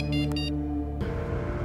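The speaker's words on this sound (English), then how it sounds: "Phone." A phone ringing indoors in a drama scene, a steady electronic tone with a few short beeps for about a second before it cuts off abruptly.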